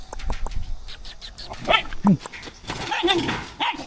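A dog barks and yips in short excited bursts close by, with some whimpering and a person speaking briefly around it.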